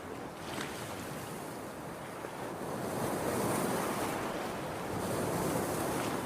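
Ocean surf rolls onto a scenic beach, with a steady wash of breaking waves that swells louder midway and continuous wind buffeting the microphone.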